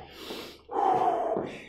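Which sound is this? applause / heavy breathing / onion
heavy breathing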